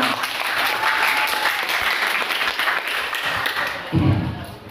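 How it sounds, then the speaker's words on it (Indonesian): A crowd claps in steady, dense applause for a few seconds, with faint voices mixed in and a brief thump near the end. "tepuk tangan untuk Mas Lutfi"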